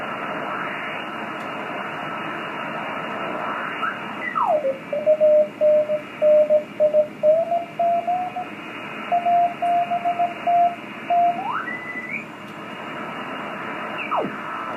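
Radio signal on the 24 megahertz amateur band: a steady hiss of static with a pulsing keyed tone that slides in pitch, then beeps on and off in short bursts before sweeping away, with no voices.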